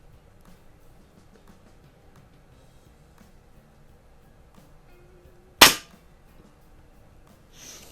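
A single sharp crack of a pre-charged pneumatic air rifle shot, a Beeman or Crosman 781 PCP, cutting through near-silence, a clean close report with a brief tail and faint handling noise afterward.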